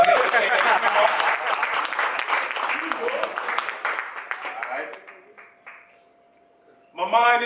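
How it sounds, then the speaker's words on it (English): An audience applauds the poet Mecca aka Grimo at a poetry event, lively clapping that gradually thins and fades to near silence, then a short fresh burst of clapping at the end. "Clap it up for Mecca aka Grimo"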